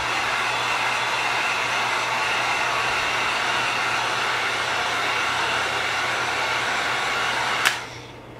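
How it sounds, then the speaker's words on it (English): A heat gun warms epoxy on a tumbler with a steady, loud blowing roar that runs unbroken, then cuts off with a sharp click near the end. "I'm going to be taking my heat gun and I'm going to be applying a little bit of heat to my tumbler"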